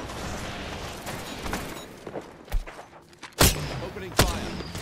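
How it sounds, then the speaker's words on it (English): Gunfire in the battle royale shooter Apex Legends, with several sharp, loud shots and thuds standing out over a busy backdrop of game noise. "Opening fire."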